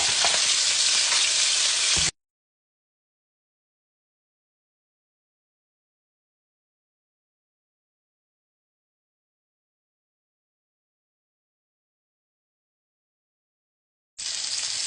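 Cod fillets searing in a hot pan give a loud, close, steady sizzle for a couple of seconds, then cut abruptly to silence before the sizzle returns at the very end.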